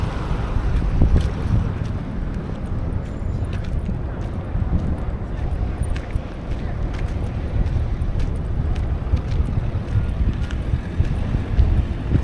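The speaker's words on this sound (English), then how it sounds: "So it's a bit windy" Steady wind blows outdoors beside a road under a hot sky, a continuous loud low rumble of gusts buffeting the microphone throughout, with no other distinct sounds standing out.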